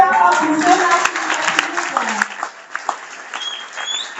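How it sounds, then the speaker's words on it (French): Applause from an audience at a mid-year business rally in Côte d'Ivoire, brief clapping mixed with voices and a short whistle-like tone near the start before thinning out. "Applaudissez encore"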